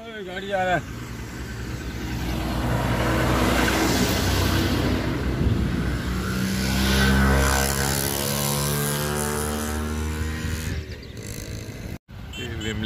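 A road vehicle's engine rumbles on a rural road on a route from Mumbai toward Padel, swelling steadily as it draws near and then passes, with people talking over it.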